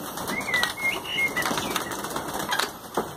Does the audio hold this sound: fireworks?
no